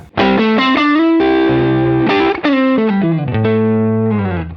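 An overdriven electric guitar runs through the Ridge analog overdrive emulation, playing loud sustained notes with slides and bends that ring out alone.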